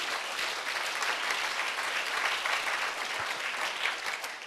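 Congregation in a Korean Sunday worship service claps steadily, a thick continuous patter of many hands, fairly distant and even in level throughout.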